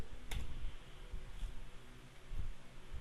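Key presses on a computer keyboard during spreadsheet work give a few faint, sharp clicks spaced apart in a quiet room.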